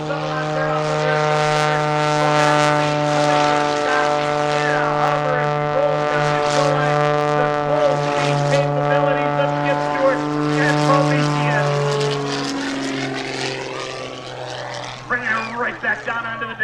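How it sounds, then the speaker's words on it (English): Modified muscle biplane performing aerobatics at an air show, its propeller engine droning loud and steady with strong harmonic tones, pitch shifting as it climbs and dives, close and continuous. "Hot rod biplane being absolutely flown to its limit"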